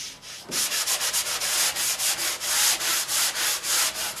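Drywall patch edge being hand-sanded to smooth it before skim coating: steady back-and-forth rasping strokes, about a dozen rhythmic passes close up, alone with no talk.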